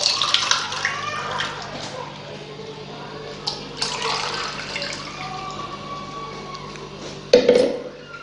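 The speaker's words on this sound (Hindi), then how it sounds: "अब हम इसे ग्लास में ऐड करेंगे।" Homemade Dilpasand sharbat, a summer street drink, is poured into a glass with close splashing and trickling that rises and falls, ending in a brief clink and a final gush.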